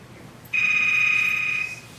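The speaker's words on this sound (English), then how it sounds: "There it is again. That's the phone, Ken." A phone rings with a steady electronic tone that starts suddenly, holds for about a second, then stops, close and clear against a quiet background.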